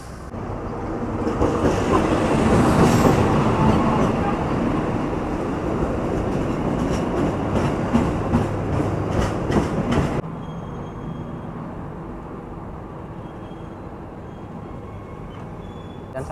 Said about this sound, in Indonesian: saat ini kereta api Majapahit bersiap masuk di jalur 2 teman-teman